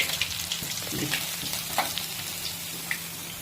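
Pieces of bhola fish fry in hot oil in a pan, giving a steady, close sizzle with small crackles and pops throughout, and no voices.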